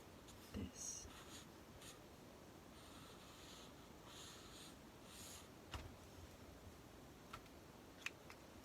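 Coloured pencil scratches across paper while a floor plan's furniture is rendered, a soft continuous scribbling texture with a few brief taps and rustles, faint and close.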